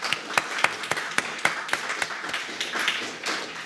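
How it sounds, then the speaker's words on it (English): Sparse clapping from a small academic audience honoring a Hungarian Academy of Sciences medal recipient, distinct individual claps at first, thickening into a softer blended patter toward the end. "So please give an applause to him."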